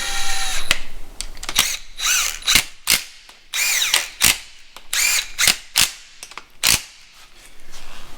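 A power tool snugs down a bolt on a wheel in a series of short, loud, rattling bursts of uneven length, separated by brief pauses, with no talking.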